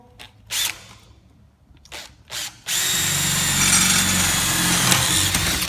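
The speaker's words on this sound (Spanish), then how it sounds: "ponemos guantes y a taladrar. Venga, vamos a hacer los agujeros." A power drill whirs in short bursts while drilling holes for a homemade bicycle stand, then runs steadily and loudly for several seconds, close by.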